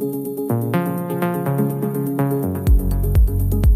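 Synth main lead from Ben Böhmer's melodic house track Beyond Beliefs, original version: a bright plucked melodic line of rising and falling notes over a deep bass entering partway, steady and full, no voices.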